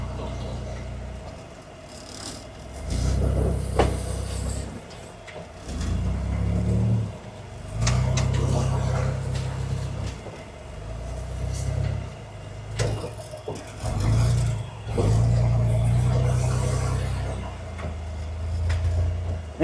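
A rock crawler off-road vehicle picks its way over rocks near Grand Junction, its low engine rumbling and surging in uneven bursts, with clunks and scrapes from the terrain and occasional voices nearby.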